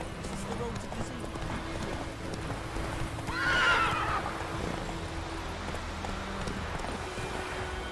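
A horse in the Witcher 3 video game gallops with continuous rapid hoofbeats and lets out a single loud whinny midway, over game wind and background.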